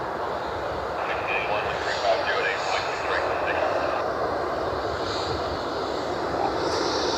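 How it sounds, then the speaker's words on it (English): A United Express E175 jet taxis out for departure at Cleveland Hopkins airport, its engines a steady, moderately distant roar. Faint voices are heard nearby. "Got a United Express E175"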